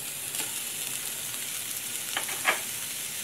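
A coconut and jaggery filling for steamed modak is sautéed in a pan, with a quiet continuous sizzle and a few light spatula scrapes toward the end. Nobody speaks.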